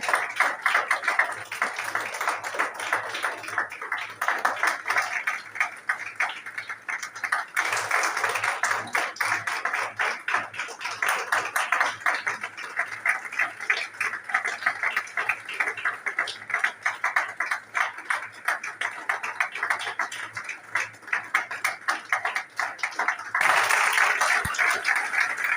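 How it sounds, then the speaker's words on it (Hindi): An audience at a Christian forum gathering claps loudly and steadily, a long, dense wash of hand claps that swells and thins in waves and carries on for well over twenty seconds. "जोरदार ताली बजाएंगे।"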